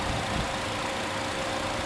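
A 2009 Pontiac G5 engine runs steadily with a low, continuous mechanical hum, close and fairly loud, sounding near idle with a slight rev and no voices over it.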